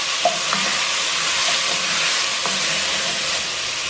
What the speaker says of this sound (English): So I would just get this cooking for a few minutes until the onions are starting to get translucent.